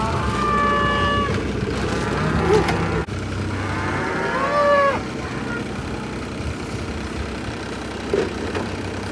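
Cattle on a farm lowing in several drawn-out moos, some near and some farther off, over a steady low background rumble like an idling engine.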